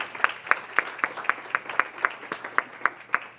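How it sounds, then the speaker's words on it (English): Audience at a workplace happiness talk clapping in a slow, evenly spaced rhythm, about a dozen sharp claps roughly a quarter second apart, close and distinct rather than a dense roar. "Give them a round of applause."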